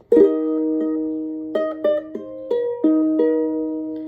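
Plucked ukulele notes ring out clearly one after another, a slow sequence of about eight picks, each left to sustain.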